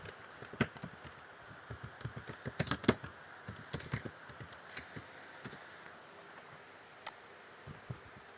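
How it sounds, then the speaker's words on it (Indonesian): Typing on a computer keyboard while entering text into a spreadsheet, with irregular bursts of close, crisp key clicks and short pauses between words. "lalu kita ketik secondary content"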